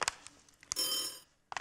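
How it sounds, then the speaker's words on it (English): A phone rings at a culinary hotline desk in bright, electronic bursts, with short chirps, a sustained ring in the middle and another burst at the end, fairly quiet and with no talk over it. "See, my phone is ringing."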